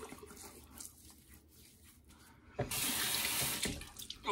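Tap water runs into a sink as the face is wetted before a shave, a soft trickle at first that swells into a loud, steady rush for about a second before easing off.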